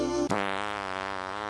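A loud, sustained fart sound effect bursts in after a short lead-in and holds a steady buzzing, harmonic tone for over a second, with no talking over it.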